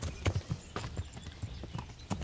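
Horse hooves gallop in the medieval game Kingdom Come Deliverance, a steady rapid clip-clop of repeated thuds close up with no voices over them.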